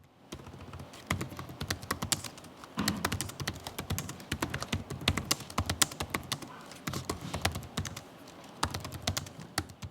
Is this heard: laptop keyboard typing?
yes